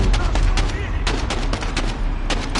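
Gunfire in a Call of Duty: Modern Warfare singleplayer mission cracks out in dense, loud bursts of rapid shots that fill the whole stretch, with muffled voices faintly underneath.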